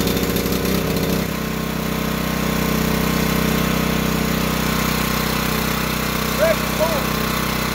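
Sportsman 3500 dual fuel generator running on propane, its engine catching after a brief start-up burst and settling into a steady, loud mechanical drone that holds close and continuous to the end, with no talk over it.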